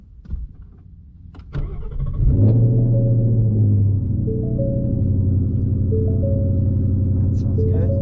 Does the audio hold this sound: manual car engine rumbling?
yes